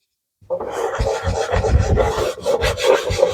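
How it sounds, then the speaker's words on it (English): Paste wax is rubbed onto a saw's lower guard with quick back-and-forth strokes, a dry rasping scrub that starts abruptly and continues close to the microphone. "And I'm going to wax this everywhere."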